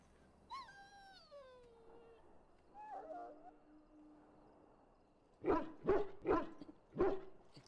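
A dog in the video game Dragon Age: Origins whines in a high, falling tone and gives a softer whimper, then lets out four sharp, close barks in quick succession.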